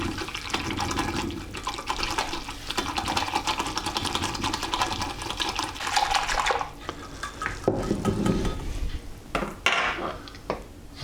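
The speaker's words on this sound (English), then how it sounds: "If you're using the granulated gelatin, and just whisk that in." Granulated gelatin being whisked into stock in a pot while making a Melton Mowbray style pork pie, a steady scraping, clinking whisk against metal that breaks into separate taps and knocks near the end.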